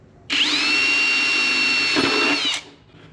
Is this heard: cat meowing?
no